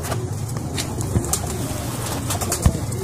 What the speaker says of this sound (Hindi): जबरदस्त कबूतर है।